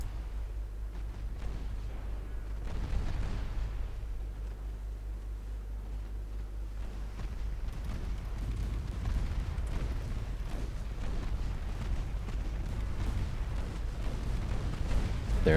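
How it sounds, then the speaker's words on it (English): Naval ship guns fire shells in a 1954-era warship video game battle at sea, heard as low rumbling booms and a continuous heavy roar, deep and muffled, with a few stronger surges throughout and no speech. "we're firing. We're throwing out more shells than they do."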